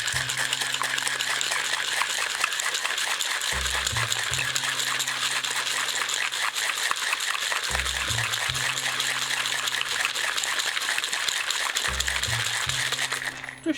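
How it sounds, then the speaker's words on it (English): Ice rattling hard inside a cocktail shaker as a Tom Collins is shaken, a fast, continuous, close-up clatter lasting over ten seconds, with a low musical backing underneath and no talking. "Now we've got to give it a good shake."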